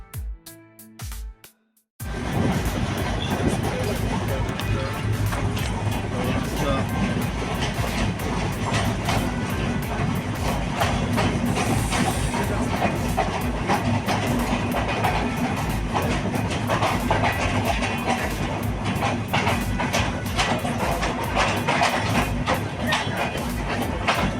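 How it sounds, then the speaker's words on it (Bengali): After a brief quiet start, a moving train fills the clip with a steady, loud rumble and rattling of wheels on track, continuing without pause. "আবার আমাদের ট্রেনটি যাত্রা শুরু করেছে আমাদের গন্তব্যে"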